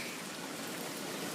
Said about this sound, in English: it's very rainy out here